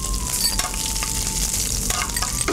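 Small shallots fry in hot oil with mustard seeds, curry leaves, ginger, garlic and green chilli for a fish curry, a dense, close, continuous sizzle with faint stirring and no talking.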